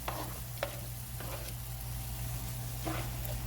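Diced tomatoes and chopped chilies stirred into a hot pan for an Italian sausage zucchini pasta, a steady soft sizzle with a few scraping stirs of a utensil, close and fairly quiet, no talking.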